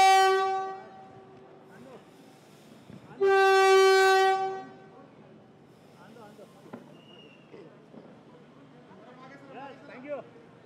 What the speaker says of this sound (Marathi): ठाणे मेट्रोची पहिली ट्रायल रन सुरू झालेली आहे